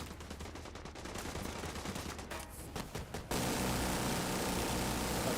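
Rapid machine gun fire rattles in a video game, a dense burst of shots over a droning aircraft engine, then cutting abruptly to a steady, loud roar of noise.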